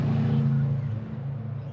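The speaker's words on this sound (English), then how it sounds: "bloody cars are so noisy" A car drives past with a low engine rumble that swells and then fades, fairly close and steady, with no voices.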